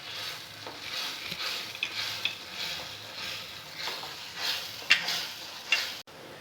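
Tamarind candy mixture with salt and dried chili powder boils in a pan, giving a steady, soft bubbling and popping with occasional sharper spits, fairly faint and continuous, with no talk.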